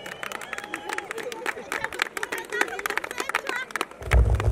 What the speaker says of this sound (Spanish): que se escuche bonito el aplauso